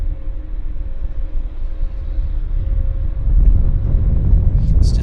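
A Lufthansa Boeing 747-400 taxis at Vancouver Airport, heard as a continuous low engine rumble with a faint steady whine, growing heavier toward the end amid outdoor wind noise, with no speech.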